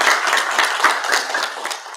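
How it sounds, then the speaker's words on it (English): Audience at a church gathering giving a round of applause, a lively patter of many hands clapping close by for a couple of seconds with no talking. "Give her a round of applause."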